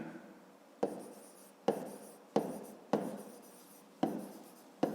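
Pen strokes on paper while a math exercise answer is written out, a series of six quiet, close scratchy strokes at roughly regular intervals, each starting with a small tap, no voices.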